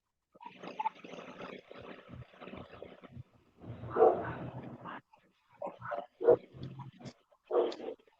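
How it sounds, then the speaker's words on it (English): Small chihuahuas barking in bursts of sharp yips and bow-wows, some mixed with whimpers, fairly close, in clusters separated by brief pauses. "I can hear chihuahuas barking"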